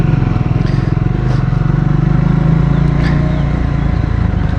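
A Triumph Scrambler 400X motorcycle ridden off-road, its engine giving a loud, steady pulsing drone with a rapid throbbing rhythm, heard close up with faint wind noise and no talking.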